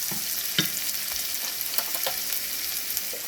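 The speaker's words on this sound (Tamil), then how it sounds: "சின்ன வெங்காயமும் ஒரு பெரிய வெங்காயமும் சேர்த்து நல்லா நறுக்கி போட்டு இந்த மாதிரி நல்லா வதக்கிக்கணும்" Chopped shallots and onion sauté in a pan for a dry fish thokku, giving a continuous sizzle broken by soft scraping stirs, close by and without talk.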